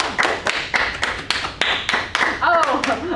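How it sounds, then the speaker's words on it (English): A few people clap in a sparse, uneven pattern of sharp slaps with brief gaps between them, while a voice talks over the end. "Applause."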